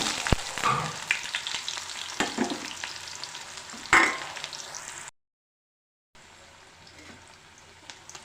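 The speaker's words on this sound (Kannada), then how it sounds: "ಸಾಸಿವೆ ಹಾಕಿದ್ದೀನಿ ಇವಾಗ ಈರುಳ್ಳಿ ಹಾಕ್ತಾಯಿದ್ದೀನಿ" Onions added to a pan of mustard seeds fry with a steady sizzle broken by sharp stirring knocks and scrapes, loud and close, before the sound cuts out to silence and returns as a quieter sizzle.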